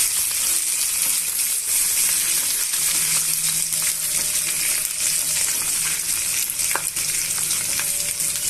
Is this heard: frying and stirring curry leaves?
yes